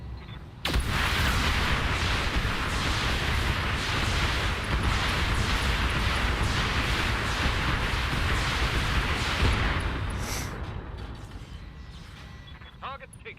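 Heavy weapons fire pounds a Quickdraw mech from the rear in a BattleTech-style mech combat game, a dense continuous roar of repeated booms and impacts lasting most of the stretch before tapering off.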